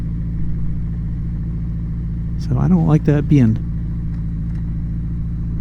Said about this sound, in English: Okay, I'm idling right back down to about 1800 now.